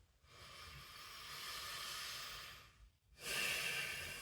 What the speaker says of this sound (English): You need to take a deep breath.